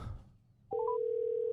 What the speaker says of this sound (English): Okay, we hear the ringing again.